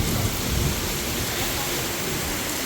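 Heavy rain pours down in a dense, steady roar, close and loud, with no distinct voices.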